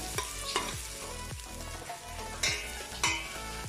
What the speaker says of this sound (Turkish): Soğanımı da iyice kavurdum.